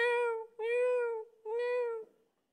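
A cat gives three long, drawn-out meows with short pauses between them, close and clear against silence, with no talking.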